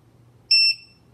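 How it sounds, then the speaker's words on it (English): A Diatone Fury F3S drone's buzzer gives two quick, loud, high-pitched beeps close by, then falls silent over a faint low hum. "Ooh, that's the buzzer right there."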